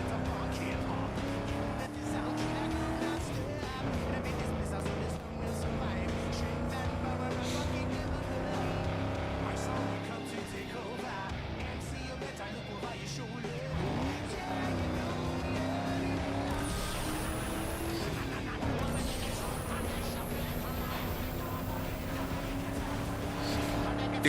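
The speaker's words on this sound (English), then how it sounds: "This car never makes it past third gear, that is insane." Racing car engine in Need for Speed Underground 2, a steady loud drone held in low gears with shifting pitch sweeps and passing whooshes, running continuously with game effects layered over it.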